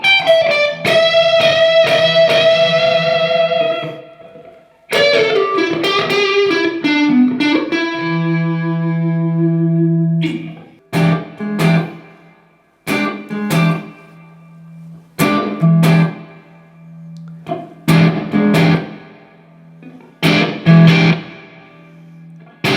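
Handmade Karl Longbottom 'Fulvia' electric guitar with single-coil tone, played through distortion and effects: ringing chords and sustained notes, then short choppy stabs and bent single notes with clear gaps between phrases.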